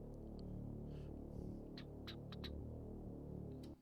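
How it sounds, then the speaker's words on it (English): Soft sustained synth pad in an electronic track breakdown, a low, steady wash humming quietly for a few seconds, with faint higher airy swells drifting over it. "what we got underneath is we got this little pad, which kind of goes on all the way until the drop happens"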